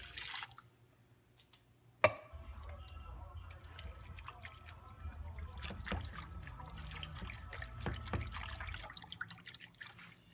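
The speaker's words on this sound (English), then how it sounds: "Now I'm adding about 2 cups of beef broth to start off with." Beef broth poured into a pan of chicken marsala in a home kitchen, a soft continuous trickling and splashing that lasts several seconds after a sharp clunk, faint and close.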